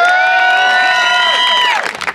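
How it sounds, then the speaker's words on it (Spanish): A crowd at a rap battle final in a market venue cheers and shouts loudly and steadily, with sustained whoops and voices held high before breaking off into ragged bursts at the end. "Fuerte aplauso para"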